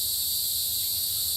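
Tree frogs chirp outdoors in a dense, steady, high-pitched chorus that keeps going without a break, with no voices over it.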